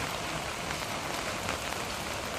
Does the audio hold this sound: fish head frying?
no